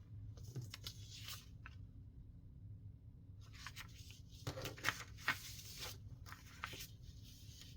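Paper being cut away while making a one-page folio: close, soft scraping and rasping strokes in two stretches separated by a quiet pause, with no talking.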